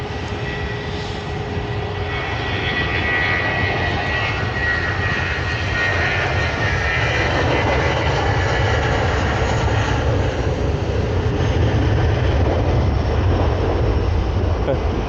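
Airbus A320neo jet on the runway at Manchester Airport, a loud, continuous roar of engines that swells slightly over the span, heard close and steady with people talking faintly in the background.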